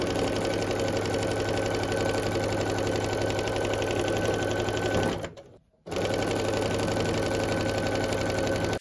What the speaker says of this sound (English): Then I'm going to sew on these other blue squares.